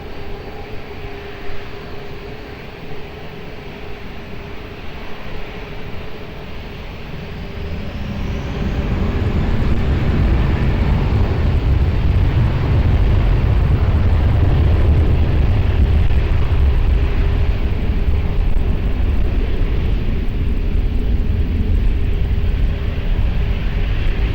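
A fixed-wing airplane takes off at Lisbon Airport, its engine roar swelling from a distant hum into a loud, sustained rumble that holds steady to the end.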